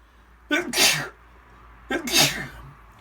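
Two loud sneezes close to the listener, each a sharp intake followed by an explosive burst, separated by a second or so of quiet.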